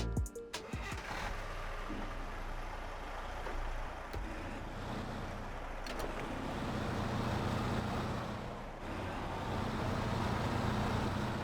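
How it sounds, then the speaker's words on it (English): Stock Pacific P512 truck engine from the video game Snowrunner drones at a steady, faint low rumble throughout, with a few soft clicks early on and no speech. "This is the sound of the normal Pacific"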